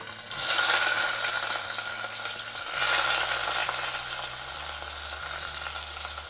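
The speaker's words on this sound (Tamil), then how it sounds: "வெங்காயம் நல்லா பொன்னிறமாக ஆகிற வரைக்கும் இதை நல்லா வதக்கிடலாம்." Long-sliced onions sizzling and frying in a pan for chicken biryani, a steady loud crackling hiss with occasional stirring, no talk.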